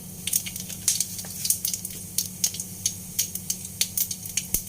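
Mustard seeds and cumin spattering in hot oil for a tempering while cooking moong dal, a steady sizzle broken by quick sharp pops and crackles at close range, no voices.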